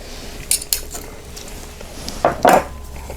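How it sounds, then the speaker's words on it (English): Cutlery clinking against a plate as turkey-meal potatoes and carrots are served, a few sharp close taps at the start and a louder cluster of scrapes near the end over quiet room tone. "Put some potatoes and carrots on my plate."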